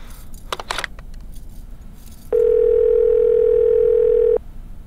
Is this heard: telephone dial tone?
yes